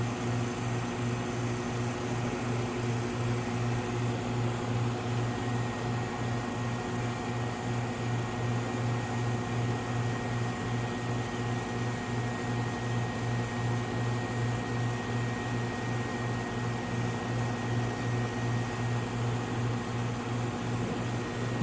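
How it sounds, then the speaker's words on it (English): Samco RIE-10NR reactive ion etcher pumping down to high vacuum, a steady mechanical hum with a fast regular pulsing throb and constant tonal whine, unchanging throughout. "the system will go to the high vacuum pump down mode again"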